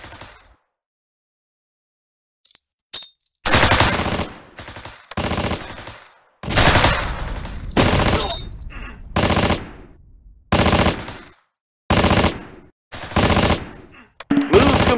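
Heavy machine gun fire in a video game battle, loud long bursts starting and stopping abruptly after a quiet opening, with short gaps between volleys.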